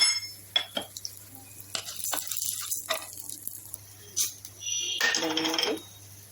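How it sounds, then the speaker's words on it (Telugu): Chana dal and urad dal dropped into hot oil, giving faint sizzling with scattered clinks and stirring scrapes, and a louder burst of frying near the end. "ఆయిల్ వేసి ఆయిల్ వేడెక్కాక శనగపప్పు, మినపప్పు ఇవన్నీ 1 by 1 వేసేసి వేయిద్దాం."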